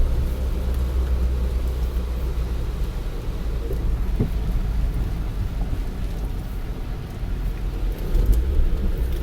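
A manual-transmission car downshifting, heard as a loud, continuous low engine and road rumble with a slight surge toward the end, no clear talk.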